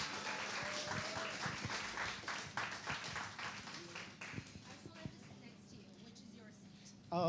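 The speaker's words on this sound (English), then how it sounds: "Can we have a big round of applause for Sunny," Round of applause at a public event welcoming Sunny Leone to the stage, scattered claps of moderate strength fading gradually, with voices talking underneath and a brief electronic sound at the end.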